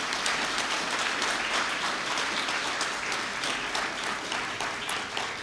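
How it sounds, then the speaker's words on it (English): An audience at a Cupertino State of the City Address claps steadily for several seconds, a dense, even roar of many hands at moderate distance with no speech over it. "Let's give a round of applause for Elisa Sakas."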